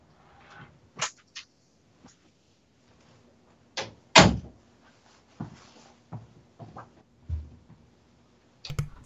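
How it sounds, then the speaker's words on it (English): An indoor door is shut during a live tech podcast setup, giving a loud thump with a rattle in the middle, surrounded by scattered clicks and small handling knocks in an otherwise quiet room. "let me close my door here"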